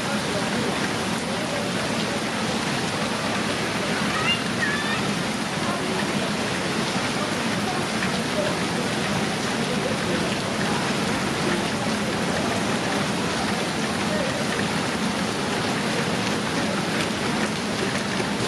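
Steady, dense rain hiss on a Chinatown street fills the whole stretch, constant and close, with faint voices murmuring underneath.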